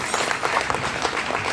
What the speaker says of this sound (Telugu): ఒక్కసారి గ్రాండ్ క్లాప్ కొట్టు